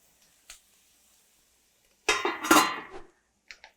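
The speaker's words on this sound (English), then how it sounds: "it's time to add the lid" A lid clanks and rattles onto a pan of sautéing carrots, a brief metallic clatter that rings for a moment. A few faint clicks come before and after it in an otherwise quiet kitchen.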